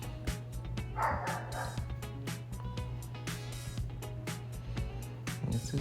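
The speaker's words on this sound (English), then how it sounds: "Excuse my dog barking in the background" A dog barks repeatedly in sharp, rapid bursts, fairly close, with occasional yips over a steady low hum.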